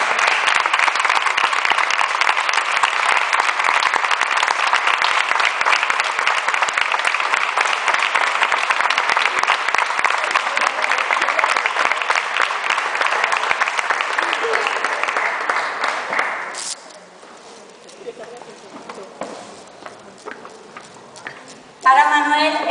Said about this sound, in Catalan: Despedim en un fort aplaudiment als representants de festes germanes de l'any 2018.